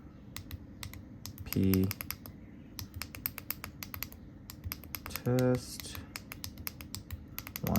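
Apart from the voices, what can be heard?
pressing navigation buttons to type a password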